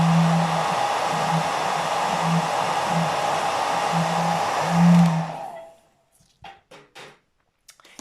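A hair dryer blows steadily and close by to dry ink on a bottle, with a faint pulsing hum. It runs for about five seconds, then switches off, followed by a few soft handling knocks.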